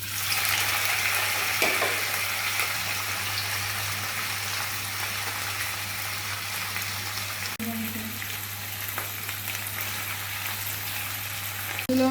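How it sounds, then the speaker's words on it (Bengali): Paneer pieces fry in hot oil in a small home kitchen with a constant, close crackling sizzle and a few faint clinks and stirs, and no talking. "তেলটা গরম হয়েছে পনিরগুলোকে দিয়ে দিচ্ছি"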